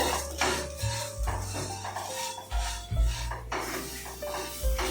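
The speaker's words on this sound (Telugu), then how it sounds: "ఇలా మీడియం ఫ్లేమ్ మీద వేగించి కరివేపాకు కూడా వేసేసుకోండి" Chicken frying with curry leaves in a pan over a medium flame, giving steady clatter and scraping of utensil against the pan with a constant low crackle underneath, close and moderately loud, no talking.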